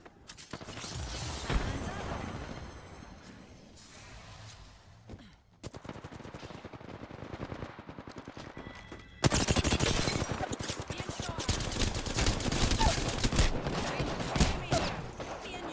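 Gunfire in the battle royale game Apex Legends, with dense bursts of shots and explosions, loud and continuous, swelling heavier in the second half, while a voice talks over the game sounds.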